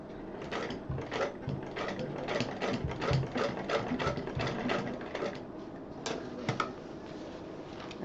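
A sewing machine stitches fabric for a purse in quick mechanical bursts, a rhythmic run of needle clatter that pauses briefly and resumes, moderately close and steady.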